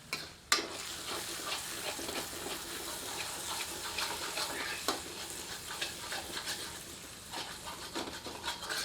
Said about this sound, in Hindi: इसे मसाले में अच्छी तरह मिलाकर 2 से 3 मिनट मध्यम आंच पर भूनते हैं